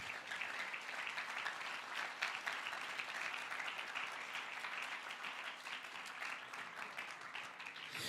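Steady, sustained applause from a church congregation in Spain during a sermon, many hands clapping densely and evenly at moderate volume throughout, with no one speaking over it.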